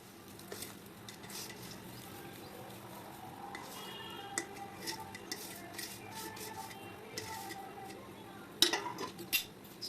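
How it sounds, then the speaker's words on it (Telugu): Fried vermicelli and dry fruits tipped into boiling milk for sheer khurma, with scattered light clinks and stirring scrapes of a spoon in a metal pot over a soft steady simmer, a sharper clatter near the end. "ఇప్పుడు ఇందులోకి మనం ఇందాక ఫ్రై చేసి పెట్టుకున్న సేమియాన్ని అండ్ డ్రై ఫ్రూట్స్ మొత్తం అన్నీ"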